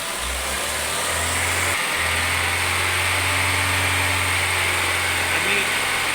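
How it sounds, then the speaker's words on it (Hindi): A car engine with a suspected tappet issue idles then is slowly revved to about 2500 rpm during a vacuum gauge health test, a steady low hum that rises gently and holds under faint background noise. "अभी हम आरपीएम बढ़ाएंगे गाड़ी के आरपीएम बढ़ाएं 2500 तक"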